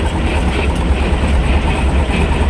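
A T-25 tractor engine runs steadily during hay mowing, a continuous loud low rumble with mechanical vibration and no talking over it.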